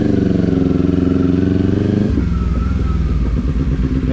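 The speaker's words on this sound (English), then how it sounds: "push the ignition in, or the starter right there, and it starts right up" A motorcycle idles with a loud, close, steady chugging engine, then is shifted into first gear and pulls away, the engine note changing to a rougher, varying rumble with no talking.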